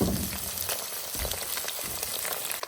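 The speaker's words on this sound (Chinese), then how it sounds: "这种小杂鱼很容易煎出香味来啊。" Small mixed wild-caught fish, gutted, fry in hot oil in a large wok, giving a soft steady sizzle with scattered crackles and pops, moderately loud and close, with no talk.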